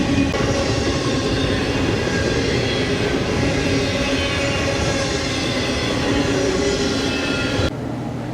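A train passes by the Whistle Stop diner: a loud, continuous rumble of rail cars with a rhythmic clickety-clack, steady and close for several seconds before dropping away at the end.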